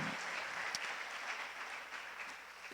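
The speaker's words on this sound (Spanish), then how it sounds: "tú le puedes dar un aplauso a Dios por eso" A church congregation applauds, a dense, even wash of many hands clapping that holds steady at moderate distance throughout the short stretch, with no talking over it.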